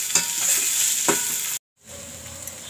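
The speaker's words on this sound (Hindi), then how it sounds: "प्याज को हमें लगातार चलाते रहना है" Chopped onions frying in a pan after fenugreek seeds, stirred continuously with a steady close sizzle and scraping strokes, a brief silent gap, then quieter frying resumes; no talking.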